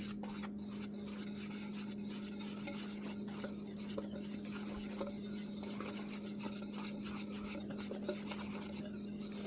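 A batter mixture is stirred in a bowl for a chicken sandwich, a steady close scraping and rubbing that continues evenly throughout over a low constant hum, with no talking.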